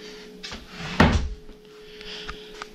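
Wooden drawer in a hotel room being opened and shut, a single soft thump with a short rattle in a quiet room, plus a few faint knocks around it.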